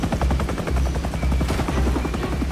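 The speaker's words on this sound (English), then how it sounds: "That's a bad CG helicopter." A helicopter from the TV show LOST thumps loudly overhead, its rotor beating in a fast, steady chop with heavy low rumble and no voices.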